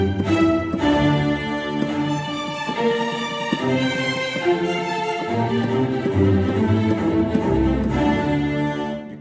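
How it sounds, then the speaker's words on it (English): Sampled orchestral strings from Unify keyboard software play a full, continuous chord progression with shifting harmonies and a deep low swell near the end, steady and loud throughout without any speech. "You can't beat those strings, they're amazing"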